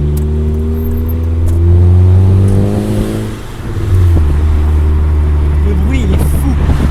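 Engine of a dark VW Golf 4 droning and revving in steady tones, dipping briefly midway then rising again, loud and close with people talking over it.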